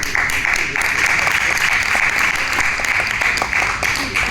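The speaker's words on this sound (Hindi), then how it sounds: "ये जो तालियां जितने लोगों की पड़ी ना, ये प्यासे बैठे यहाँ पे" An audience at a Vestige business seminar breaks into sustained applause, a dense, even patter of many hands clapping that carries on without a break.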